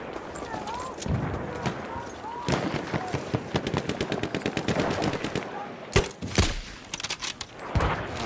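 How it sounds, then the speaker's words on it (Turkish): Battlefield 1 video game gunfire: rapid machine-gun bursts and scattered single shots crackle steadily, with sharp, louder blasts near the end, all beneath a continuous rumble of battle noise. "Nereden mermi geliyor lan öyle?"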